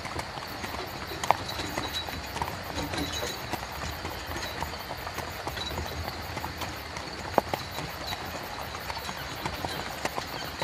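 A horse pulling a carriage along an old country road, hooves clip-clopping in a steady, moderately close rhythm with occasional sharper knocks, faint and unaccompanied by speech.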